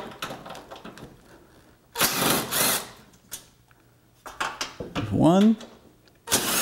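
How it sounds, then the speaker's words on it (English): Impact gun with a socket and extension zips bolts out of an 8th-generation Honda Civic during a VTEC solenoid repair, giving two short loud bursts between quieter clicks and brief talk. "I've got a 12 millimeter socket on my gun and a 10 millimeter with an extension to get the 10 millimeter bolts"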